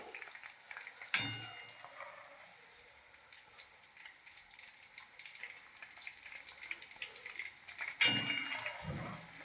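Eggplant and mixed vegetables frying in hot oil for Kathiyawadi undhiyu give off a steady, moderate sizzle, broken twice by sharp utensil clatters near the start and end.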